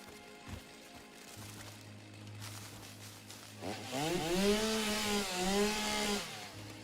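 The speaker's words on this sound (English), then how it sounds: "These aren't like worth using the chainsaw on." Chainsaw from the Satisfactory video game cutting through plants, a steady buzzing whine that swells and wavers for a few seconds over a low game hum.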